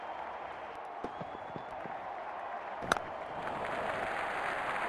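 A packed cricket stadium crowd at an India versus Australia T20 international in Mohali roars and applauds in a steady, broad wash with a few sharp claps popping out, and the noise rises slightly toward the end.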